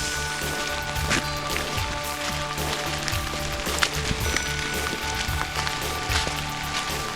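Rain falling by a lake on a fishing outing, a constant dense patter on surfaces with occasional louder drops, steady and moderately close, no talking.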